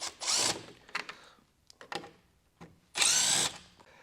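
A power driver backs out T15 Torx screws from the grille of a 2024 Chevrolet Equinox in short whirring bursts, with a long spin at the start and another near the end, separated by small clicks and handling noises.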